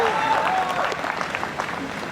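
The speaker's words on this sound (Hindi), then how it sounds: "आपने जो ये धुआंधार तालियों से स्वागत किया है उसको धन्यवाद करता हूँ।" A hall audience at a comic poetry gathering breaks into loud sustained applause welcoming a poet, a thick continuous patter of many hands with a voice speaking over it.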